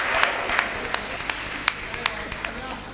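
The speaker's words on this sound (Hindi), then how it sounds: "आप सबने तालियां भी बहुत मन से बजाई" An audience at a Hindi poetry recital claps and applauds, a steady wash of hands with scattered sharper claps standing out, while a voice talks over it.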